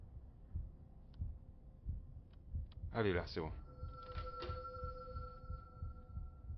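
Approaching heartbeats in the Inside the Backrooms video game, a low rhythmic thumping pulse throughout, with a brief loud burst and tones midway while a person speaks quietly.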